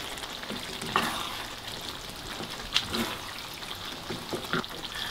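Chicken liver seasoned with black pepper and salt frying in a pan, a soft steady sizzle with a few scraping stirs and light clinks, close but fairly quiet.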